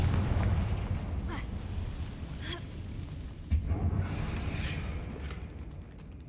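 Confringo fire spell blasts in the Hogwarts Legacy video game, a few booming explosive bursts spaced over a rumbling background, with a sharp loud hit near the middle and faint spoken voice.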